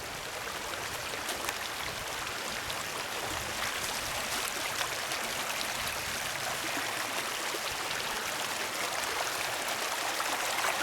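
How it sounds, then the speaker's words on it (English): A small wetland stream flows steadily along a trail edge lined with mosses and grasses, making a continuous close, even rush and trickle of running water with no voices. "This water just flows and flows."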